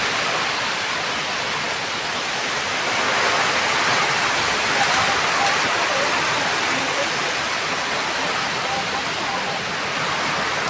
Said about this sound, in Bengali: উত্তর দিকে কেমন হাওয়া দিচ্ছে।